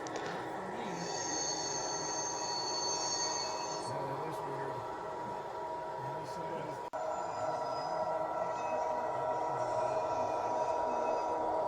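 An HO scale model train rolls through snow sheds on a layout with a steady mechanical hum and brief high wheel squeals. Someone talks over it throughout.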